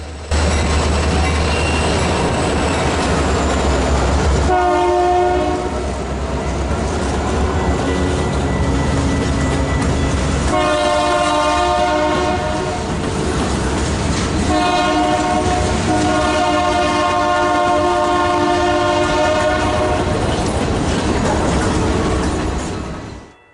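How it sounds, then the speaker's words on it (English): An Indiana Harbor Belt mixed freight train led by GP40-2 diesel locomotive rumbles past loudly with engine drone, sounding its horn in several long blasts, wheels clattering steadily throughout. "Following up behind the holiday train is an Indiana Harbor Belt mixed freight led by GP40-2 number 4018."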